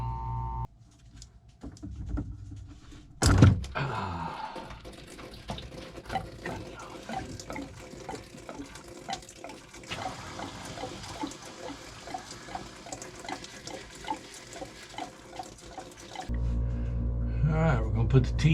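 Water spills and splashes from a boat's freshwater plumbing lines as a fitting is opened, an irregular trickling and dripping heard close up under a voice talking, with a louder rush toward the end.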